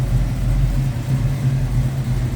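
A 1969 Chevrolet C10 regular cab short box runs steadily close by, its engine giving a loud, even low rumble with a slight pulsing throb and no talk over it.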